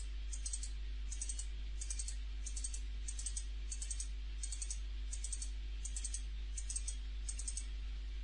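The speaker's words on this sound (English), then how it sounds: "I'm double clicking all those" A computer mouse gives quiet paired clicks again and again in a steady rhythm, each double click crisp and small above a low constant hum.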